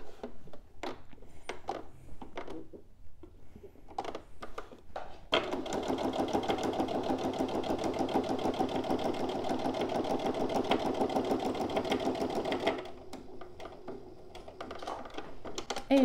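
A sewing machine stitches fabric in a fast, steady mechanical run of about seven seconds, finishing with a backstitch, preceded by scattered clicks and handling taps and followed by quieter fiddling.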